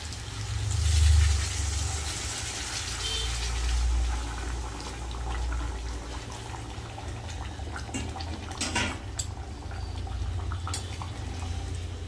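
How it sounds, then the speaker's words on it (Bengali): Water poured into a pot of potato and pointed gourd curry, a steady low rushing fill that swells near the start and then settles into a continuous simmering wash, close and moderately loud with no voices. "জল দিয়ে দিলাম।"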